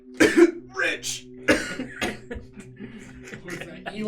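A few short, rough coughs near the start, followed by muffled murmuring and voices talking quietly.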